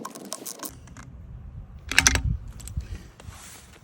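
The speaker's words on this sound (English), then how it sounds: "I'm going to put all my screws and nuts back on through here." Screws and nuts going back onto a Jacuzzi (Carvin) Laser 192 lever cover by hand: sparse close metallic clicks, light ratcheting and scraping, with one louder clatter midway.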